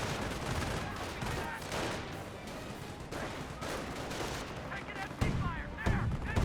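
Dense, continuous gunfire and explosions from the Company of Heroes strategy game as a rifle squad is fired upon, heavy overlapping battle noise throughout with a voice talking underneath.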